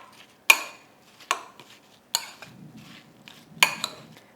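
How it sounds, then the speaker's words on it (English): Chopped apple pieces stirred with lemon juice in a bowl, heard as a few sharp clinks and scrapes of a spoon against the dish spaced about a second apart, with soft rustling between, close and fairly quiet. "Now I'm adding the lemon juice to make sure that they don't brown. And I quickly stir this a little bit."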